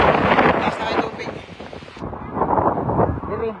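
Strong typhoon wind from Typhoon Tino in the Philippines roars and buffets the microphone steadily, with voices faintly audible beneath the gusting noise.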